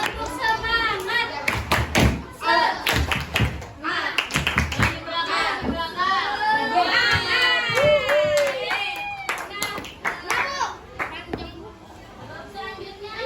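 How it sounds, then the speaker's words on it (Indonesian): Children clap a rhythmic spirit clap (tepuk semangat) in a classroom, a loud run of patterned claps mixed with voices chanting and talking throughout. "Tepuk semangat."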